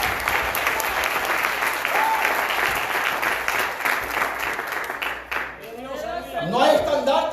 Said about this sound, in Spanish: Denle fuerte ese aplauso a Cristo en esta noche.